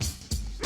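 A dog barks in short, loud bursts, three quick barks spaced roughly evenly, close by with no talk over them.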